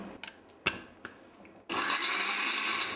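A kitchen blender whirs steadily as it purées Roquefort cheese with a splash of whole organic milk, starting after a few light taps and clatters and running loud and continuous to the end.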